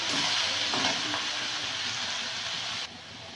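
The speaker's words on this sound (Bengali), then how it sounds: "লঙ্কা গুঁড়ো আর লবণ দিয়ে নেড়ে ঢাকা দিয়ে দেবো।" Sushni greens with chili powder and salt being stirred in a hot pan give a steady, loud sizzle with faint scraping. The sizzle drops abruptly near the end, as if the pan were covered.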